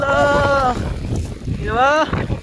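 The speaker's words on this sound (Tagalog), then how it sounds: "Ang lakas ng ulan. Pati hangin." Heavy typhoon rain and strong wind buffeting Yung Shue Wan on Lamma Island, a steady broadband roar of rain and gusts with wind noise on the microphone, while people talk loudly over it throughout.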